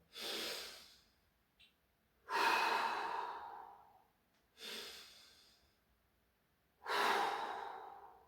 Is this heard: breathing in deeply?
yes